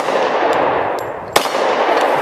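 A Glock 30S pistol fitted with a Glock 21 magazine fires a single sharp report at a target over a steady, loud, hissing background, with faint metallic pings around it.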